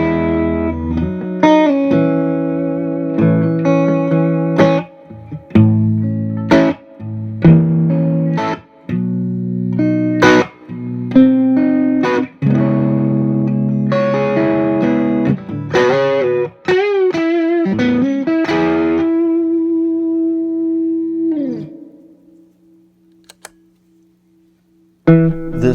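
An electric guitar with mild overdrive runs through a Strymon Big Sky reverb pedal in spring mode, loud chords and single notes with springy, splashy tails, ending on a sustained note that decays away.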